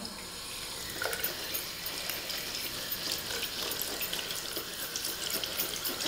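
Makeup brushes are rinsed under a running tap, a steady close hiss of flowing water with faint splashing and small clinks as they are moved in the stream.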